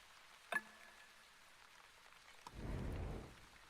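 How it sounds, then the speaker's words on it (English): Rain falling in The Wandering Village game, a soft steady patter with a brief sharp drop sound early, then a low rumbling wash of heavier rain swelling near the end, fairly faint overall. "We're getting quite a lot of rain in this biome, actually, which is good."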